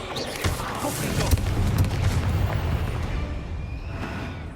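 In the Hogwarts Legacy video game, the Confringo fire spell bursts in a loud, booming explosion, followed by a rumbling, crackling roar that slowly fades.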